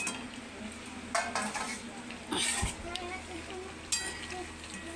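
Pieces of fish slipped one by one into a pan of simmering curry, with soft sizzling and bubbling, a few stirring and clinking sounds of a utensil against the pan, close by, without speech.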